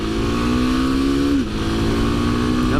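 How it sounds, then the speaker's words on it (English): A 2018 Kawasaki KLX250 motorcycle engine revs steadily at close range, holding a sustained drone with a brief dip in pitch midway before climbing back, loud and continuous with no voices. "And there you have it, Kawasaki KLX250."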